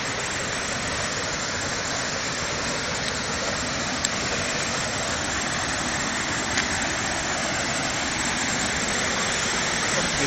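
Waterfall on the Bear Mountain hiking trail in Connecticut, a steady broadband rush of falling water filling the whole clip at constant loudness, with no talk over it.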